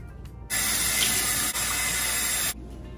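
Water from a tap gushes steadily for about two seconds while body wash is rinsed off, close and full, stopping abruptly with a brief break midway.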